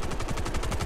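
Rapid automatic gunfire from a video game shooter, a continuous fast burst of loud close shots with no pauses.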